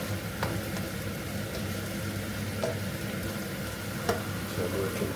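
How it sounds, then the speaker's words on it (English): Curry paste fries in a pan for a vegetable korma, giving a steady, loud sizzle throughout, with a few faint scrapes and clicks from stirring. "Keep stirring it round."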